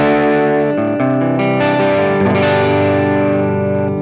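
Gibson Les Paul on the neck pickup with the volume at 10 drives a Boostache pedal, giving thick, crunchy, sustained chords and notes that ring continuously, loud and close, with no voices.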